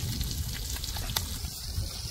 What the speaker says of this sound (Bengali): ম্যারিনেট করা মাছ দিয়ে দিলাম, উনুনে ধরে গেছে, তেল গরম হওয়ার সাথে সাথে সব মাছগুলোকে দিয়েছি।